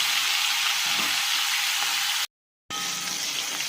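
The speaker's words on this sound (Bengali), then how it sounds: "কড়াতে আমি তেল দিয়ে দিয়েছি তেলটা গরম হয়ে গেছে এই চিংড়ি মাছ কয়েকটা ভেজে নিচ্ছি" Prawns frying in hot oil in a wok make a loud, dense, continuous hiss and crackle, which cuts out briefly and then resumes just as strong, with no talking.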